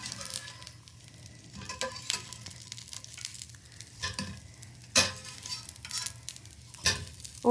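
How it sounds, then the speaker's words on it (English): Eggplant slices sizzle in olive oil in a frying pan, a quiet steady crackle broken by a few louder spits and stirring clatters, with no talk. "from the frying in the olive oil and everything"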